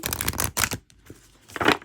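Close, crisp bursts of an oracle card deck being riffled, two quick rushes, a short pause, then another riffle.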